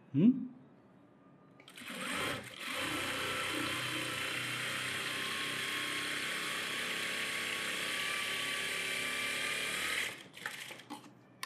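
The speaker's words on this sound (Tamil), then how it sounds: "கீழே வந்து ஒரு எஜ்ஜு தையல் போடுறேன்" Sewing machine running steadily for about eight seconds while stitching an edge seam on a net blouse, a loud even whirr that starts after a brief pause and stops abruptly, with a few soft handling noises at either end.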